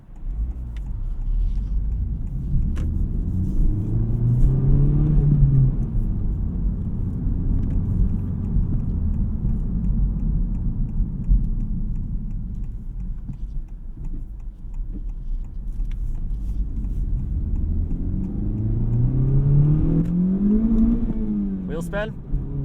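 A deep, rumbling 2023 Honda Civic Type R engine idles and twice rises into a revving swell with a low, throaty exhaust note.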